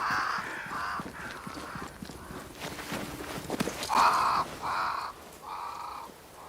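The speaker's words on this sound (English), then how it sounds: "Crows. They flock to that great tree up there." Crows caw repeatedly in the Banishers: Ghosts of New Eden game, harsh rhythmic calls in short bursts, some near and loud, others fainter, over a soft rustling background with light scattered clicks.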